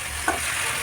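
Chicken pieces fry in a pan for a home-style chicken roast, giving a brief, steady sizzling hiss with a single soft stir or scrape partway through.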